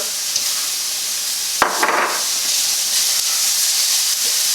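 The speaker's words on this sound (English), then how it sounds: "As soon as I go in with the garlic, I'm going to also go in with another tablespoon of fat, this time in the form of butter." Minced garlic and butter drop into a hot pan with a sudden burst of sizzle, then settle into a steady, close frying hiss.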